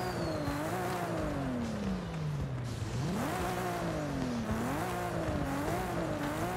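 A car in Forza Horizon 5 revs hard and accelerates toward top speed, the engine pitch climbing, dropping with each gear shift and climbing again, loud and close, with faint tire squeal and no talking.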